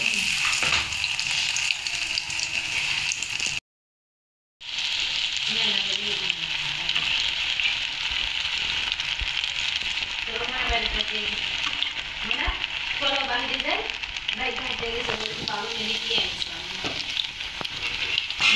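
Food fries and sizzles steadily in very hot oil while onions are stirred in the pan, a constant crackling hiss with scraping stir sounds, briefly cut out once, as someone talks over it at times.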